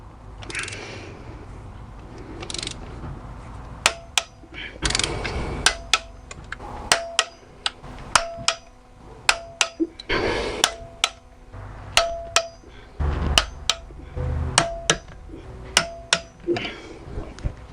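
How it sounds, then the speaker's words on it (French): Hand tools tightening ten screws to 14 Nm on the engine of a Dodge Charger SRT8 6.4, with sharp metallic clicks and clanks at irregular intervals over quieter scraping and handling noise, close up. "on va passer au serrage. Donc il y a 10 vis, 5 de chaque côté, et c'est un serrage à 14 Nm"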